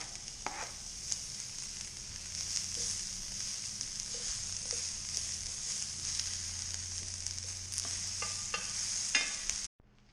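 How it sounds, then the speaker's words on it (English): Potatoes browning in peanut oil in a small skillet give a steady, close sizzle and crackle for the whole stretch, with a few sharper pops and scrapes over it, then the sound cuts off abruptly at the end. "I'm going to leave the potatoes there and let them brown."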